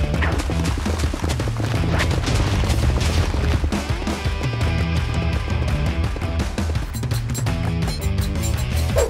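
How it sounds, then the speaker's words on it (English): Rapid, overlapping TNT blasts in Minecraft rumble as a dense, loud, unbroken barrage of booms that runs through the whole stretch without a pause. "Now all we need to do is do a few more explosions"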